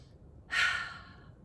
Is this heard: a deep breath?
yes